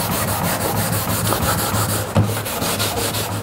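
A pad rubs a 1991-1993 Dodge Ram tailgate panel, making a continuous loud, close, rhythmic scrubbing sound with regular back-and-forth strokes and no talk.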